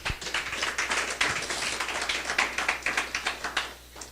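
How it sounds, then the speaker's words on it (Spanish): A church congregation clapping for the Lord, crisp rapid claps from many hands in a lively, uneven rhythm, loud and close, tapering off at the end. "Ahora dele un aplauso al Señor."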